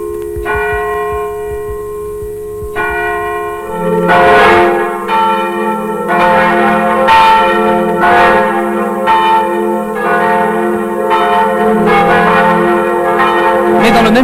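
A rural French village church rings its bells loudly, first with a long resonant single tone, then a steady rhythm of repeated strikes that overlap into a ringing peal lasting the whole stretch.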